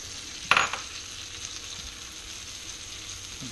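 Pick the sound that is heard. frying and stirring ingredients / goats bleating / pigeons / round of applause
frying and stirring ingredients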